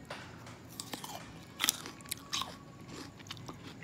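Crispy green seedless grapes are bitten and chewed up close, giving a few sharp crunches followed by wet, juicy chewing with no talking.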